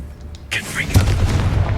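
A Confringo fire spell detonates in a video game, a sudden heavy boom followed by a rumbling, crackling burst that lingers for about a second.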